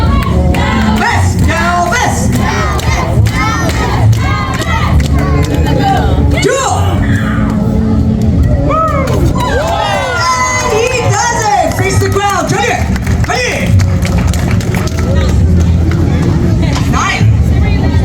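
A festival crowd at Taste of Lawrence 2025 cheers and applauds loudly and steadily for a 12-year-old junior black belt who has just gone through a pyramid and a hoop to break a board, with shouting voices in the mix.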